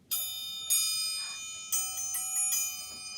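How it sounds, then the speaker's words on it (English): A metal triangle rings out in three bright, clear strikes, each leaving a long shimmering sustain, close and alone. "This is called a triangle, and it makes a really pretty bell kind of a noise."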